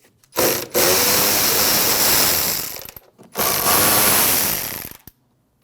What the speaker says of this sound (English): you have two 8mm bolts. You remove those.